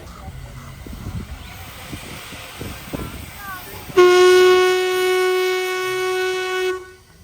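The Papagáj steam locomotive at a Bratislava steam locomotive show sounds a long, loud horn blast of about three seconds after a stretch of quieter rail-yard noise and crowd murmur.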